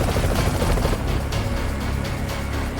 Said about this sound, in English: The A-Star support helicopter is making a special delivery.